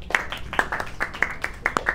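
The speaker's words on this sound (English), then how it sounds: "Big clap for Shema Mahmoud." A small class audience gives a round of applause at a summer English course, sparse individual claps in an uneven rhythm, fairly close and moderately loud, with no talking over them.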